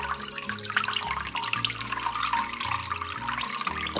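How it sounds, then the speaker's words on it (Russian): Fermented liquid being poured through gauze into an 800-gram glass jar while making homemade Ossetian cheese, a steady trickle running throughout over low kitchen hum. "Прикрыла марлей и через вот такую крышечку буду наливать."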